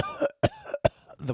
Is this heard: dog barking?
no